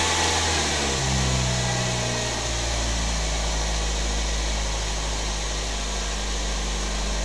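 A car engine turns over and settles into a steady, low idle, a constant close-up rumble with a broadband hiss and no voices.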